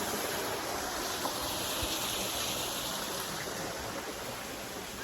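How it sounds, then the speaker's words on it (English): The waterfall at Shanklin Chine on the Isle of Wight gives a constant rushing wash of falling water, steady and moderately loud throughout with no voices. "Beautiful waterfall."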